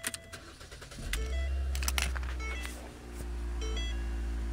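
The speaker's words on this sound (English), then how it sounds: "So now the car is running." A 2009 Ford Focus SE with a faulty ignition switch cranks briefly and catches, settling into a steady, loud engine idle close by, with small clicks and a faint beep before the start.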